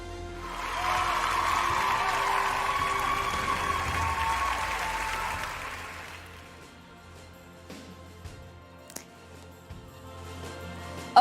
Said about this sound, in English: Ladies and gentlemen, keep the applause coming.